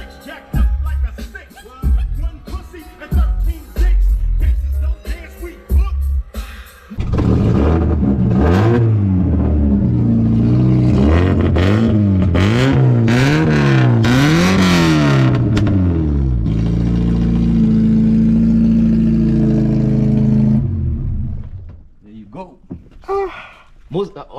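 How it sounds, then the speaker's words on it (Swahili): An old-school car with a loud exhaust revs hard several times, its engine note sweeping up and down before settling into a sustained roar and cutting off, with clattering and voices at the start. "All of my cars they have that crazy loud exhaust"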